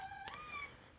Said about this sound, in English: Meow, that was my cat.